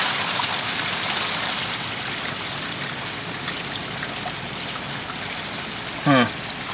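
Water draining from an RV black tank valve, a steady close trickling and splashing flow with a constant broadband hiss, and a brief sharp knock near the end.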